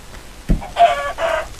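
A chicken from the Minecraft video game clucks in two short bursts after a low thump, loud and close with no talking over it.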